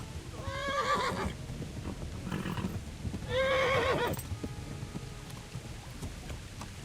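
A horse neighs twice, loud and close, with galloping hoofbeats and steady rain in the Kingdom Come Deliverance video game, and no talk.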